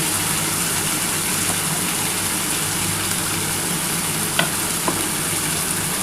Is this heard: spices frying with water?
yes